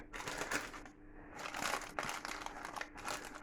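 Several layers of crinkly baking parchment wrapped around a brown bread cake rustle and crackle as they are handled up close, in irregular bursts with a brief pause.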